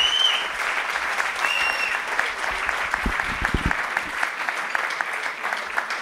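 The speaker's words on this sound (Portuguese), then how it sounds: "João Esteves, uma salva de palmas para ele." Steady, dense applause from a stand-up comedy gala crowd in Lisbon fills the whole stretch, with a few louder individual claps near the middle.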